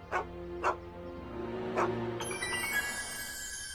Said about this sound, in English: Officer Parker, that's the stray that keeps escaping the kennel.